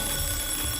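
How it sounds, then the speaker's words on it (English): An alarm clock rings with a continuous loud electronic buzz that holds steady and alone for under a second. "the alarm clock suddenly went off and distracted him"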